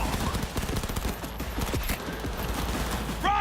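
Rapid bursts of gunfire in the video game Cyberpunk, repeated sharp shots running throughout at close range, with battle effects and faint voices underneath.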